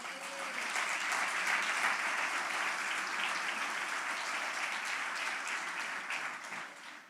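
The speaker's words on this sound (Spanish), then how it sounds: "Dale un aplauso a Cristo" A church congregation breaks into sustained applause, a steady wash of many hands clapping that carries evenly for several seconds before tapering off.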